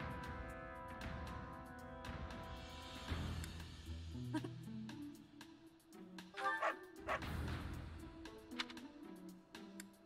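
A cartoonish dog in the Fire Emblem: Three Houses video game gives a series of short, bright barks and yips over soft background music, the barks repeating in quick bursts near the front of the mix.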